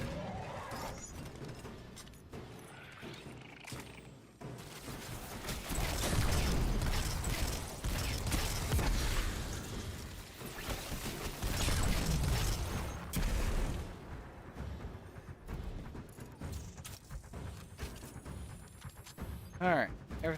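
Weapons being reloaded in Destiny 2 during The Final Shape, with clicking and ratcheting mechanical sounds over dense, loud game noise and bursts of impact, while someone talks throughout.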